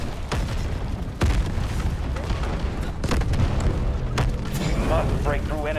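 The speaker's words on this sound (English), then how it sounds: "Artillery ready for barrage." An artillery barrage in the video game Delta Force: repeated heavy booms and blasts land in irregular succession, loud and close, with game voices and crackling bursts in between.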